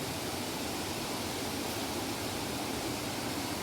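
Water pouring over the tiers of Jet Sao Noi waterfall in Saraburi makes a constant, full roaring hiss, close and uniform in level from start to finish, with no voices over it.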